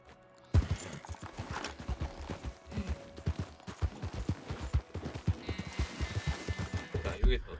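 A horse gallops in Red Dead Redemption 2, its hooves beating in a fast, steady clip-clop from start to end, with faint game ambience and the rider's brief voice mixed in.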